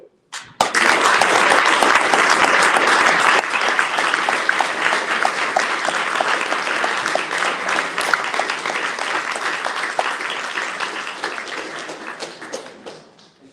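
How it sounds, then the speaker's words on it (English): A large crowd at a startup pitch event applauds steadily for over ten seconds, dense clapping that fades slightly toward the end. "Give him a clap."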